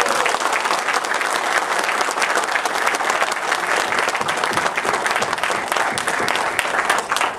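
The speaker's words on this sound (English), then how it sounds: "A big round of applause." A seminar audience in Dubai gives loud, sustained applause, a dense wash of many hands clapping evenly from start to finish.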